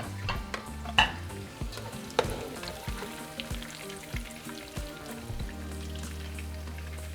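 Meat frying in oil in a pot for charro beans, a constant crackling sizzle with scattered utensil clinks and scrapes, heard close and alone.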